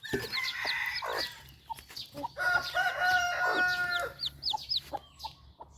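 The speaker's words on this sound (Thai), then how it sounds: "มาดูจิ๊บจิ๊บ" Baby chicks chirp in quick, high, repeated peeps, close and lively, scattered across the whole stretch with a faint low hum underneath.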